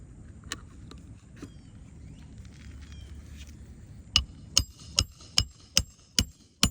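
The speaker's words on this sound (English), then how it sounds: "Be very careful as I'm hammering it." Hammer driving nails into asphalt roof shingles, a few scattered knocks and then a steady series of seven sharp, close blows at even intervals over soft background noise.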